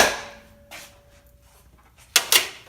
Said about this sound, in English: Flash forward like an hour, and we're hammering stuff.